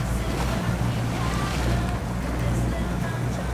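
Bulldog SX81B heavy truck in Snowrunner crossing a river, a steady loud wash of rushing water and low engine rumble with wind-like broadband noise, continuous throughout.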